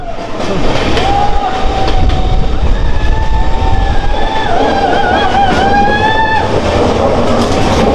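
A train runs on a hill railway toward Silchar and enters a tunnel: a loud, continuous rumble and rattle, with high-pitched wheel squeals rising and wavering over the din.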